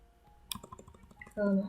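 Someone types on a computer keyboard, a quick run of light, close clicks and taps at an uneven pace, ending in a brief louder tone.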